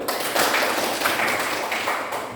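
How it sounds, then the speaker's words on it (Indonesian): A school class claps their hands together in a classroom, with brief, dense, steady clapping close by and no voices. "Tepuk tangan dulu."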